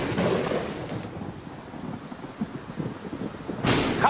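Rain and thunder during a thunderstorm at an outdoor barbecue grill: steady patter of rain on surfaces with a low rumble of thunder, moderately quiet and continuous, no talking.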